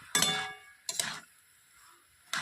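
A spatula scraping and clinking in a pan of bottle gourd being stirred, three short metallic bursts spaced about a second apart, close and crisp against near silence.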